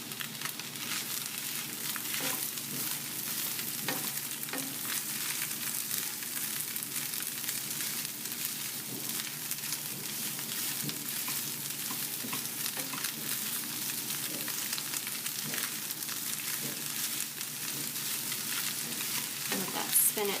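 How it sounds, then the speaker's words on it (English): Spinach and chopped white mushrooms frying in a pan for a tofu scramble, a soft, even sizzle that runs on steadily with faint stirring clicks. "Let that spinach cook down for a couple minutes."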